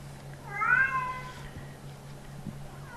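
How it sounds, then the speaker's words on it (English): A cat meows once, a clear drawn-out cry wanting to be let outside, fairly close over a steady low indoor hum, with no talking. "the cat, he just wants out. He's just going to keep crying."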